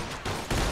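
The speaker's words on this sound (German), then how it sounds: "Eine Schießerei in diesem Spiel, wie überraschend." Gunfire rattles through a shootout in the Mafia 2 video game, a dense, loud burst of overlapping shots lasting under a second.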